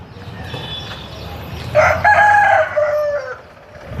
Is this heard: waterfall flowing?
no